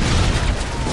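Gunfire in the Call of Duty Modern Warfare 3 campaign: a dense, continuous burst of shots with a heavy, booming low end, loud and without pause, with no voices over it.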